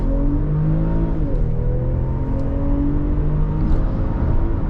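A BMW X5 xDrive45e plug-in hybrid SUV accelerates on city streets in New York, its engine a steady, loud drone with rising harmonic tones through the gears, heard from inside without talk.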